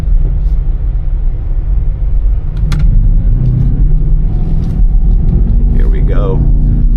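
A BMW XM drives a slalom on a Formula 1 track, its engine a steady close rumble under the cabin with a brief rise in revs, and a person talks over it.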